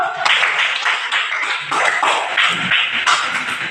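A classroom of students claps together for a classmate's correct answer, a dense, steady patter of many hands that lasts the whole stretch at fairly even loudness, with a few scattered voices mixed in.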